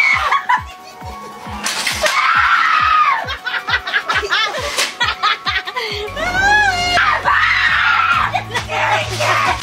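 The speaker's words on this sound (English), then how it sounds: "it's just a lot of screaming, man" People scream together in a haunted house for a long, dense stretch of shrill overlapping shrieks, with bits of laughter and shouting mixed in and a rapid knocking rhythm running underneath at the start.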